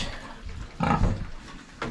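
A heavy sow, over 100 kg, grunts on a farm during moving and weighing. One loud, close grunt stands out over low background shuffling, and a shorter grunt follows near the end.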